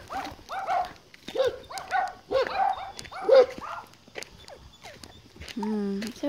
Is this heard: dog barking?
yes